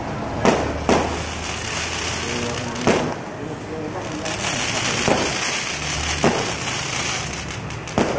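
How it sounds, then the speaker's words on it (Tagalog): Fireworks bang at irregular intervals at a town fiesta in Pampanga, several sharp bursts over a constant background roar, with people talking throughout. "May fireworks."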